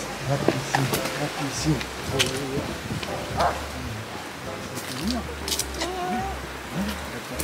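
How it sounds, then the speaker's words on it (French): A neighbour's dog barks repeatedly from nearby at a house in Spain, sharp woofs and yips scattered across the clip, with people talking over it throughout. "c'est le chien du voisin?"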